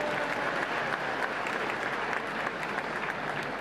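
Audience applause at an Israel Independence Day celebration, a sustained even wash of many hands clapping in a large room, moderately loud, with no speech over it.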